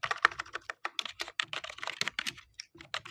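Rapid, close typing on a computer keyboard while writing Python code in Google Colab. Clicky keystrokes come in quick irregular bursts with brief pauses, and nobody speaks.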